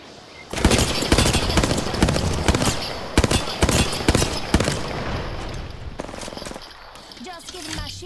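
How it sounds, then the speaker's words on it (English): Enemy gunfire in a video game, a dense sustained barrage of rapid automatic shots that keeps going for several seconds before thinning into scattered bursts. "They spotted me. I'm taking shots."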